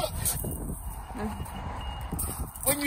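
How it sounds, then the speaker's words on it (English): A car alarm sounds after a locked car is jacked up, with repeating electronic tones heard outdoors beneath someone talking. "The alarm's gone off, look!"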